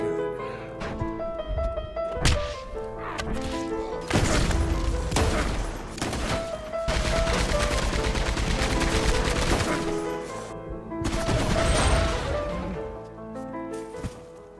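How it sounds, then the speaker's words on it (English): Bursts of gunfire crack through a Red Dead Redemption shootout, rapid volleys and single shots over a musical score, with loud clusters of fire separated by brief lulls and no talking. "John shoots Micah, finally ending the betrayal that destroyed the gang."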